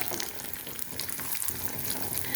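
Nuts and raisins fry in ghee for a pasta payasam, giving a brisk, crackling sizzle with light stirring scrapes that runs steadily and close by.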